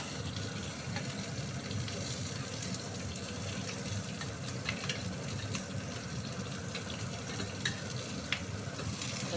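Onions, green chillies and cumin fry in oil with a steady, dense sizzle and occasional stirring scrapes, close by and continuous with no talking.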